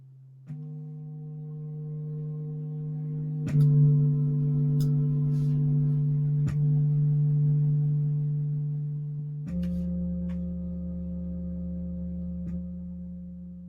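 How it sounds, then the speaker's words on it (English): Recursive sequence of synthesized tones, each new steady tone stacked on the previous one, forming a sustained buzzy drone that shifts pitch in a few steps, with faint clicks at each change. "So we're adding tones and building on the tone from just through recursion."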